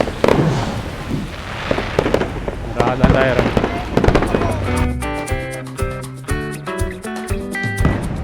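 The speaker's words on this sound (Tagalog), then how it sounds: "May backdrop ng fireworks" Bursts of fireworks pop and crackle in an outdoor holiday setting with a giant Christmas tree and fountain at a monument, sharp repeated bangs mixed with crowd noise and music, while a person talks briefly over it.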